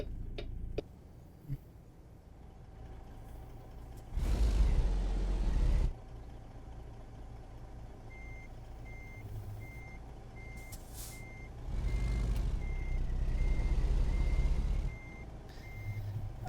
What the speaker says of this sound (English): I have a very, very long truck.